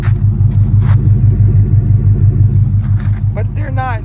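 A 1997 Ford Mustang GT with a 4.6-liter two-valve V8, fitted with new cams and bearings, idles steadily with a loud, even, pulsing low rumble up close, with brief voices over it near the end.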